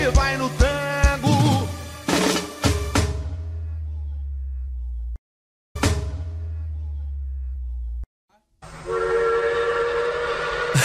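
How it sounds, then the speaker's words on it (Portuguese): A train horn sound effect blares within a Brazilian pagodão song, sounding in loud tonal bursts mixed with the music, broken by abrupt silent gaps before the sound returns. "É o trem, rapaz."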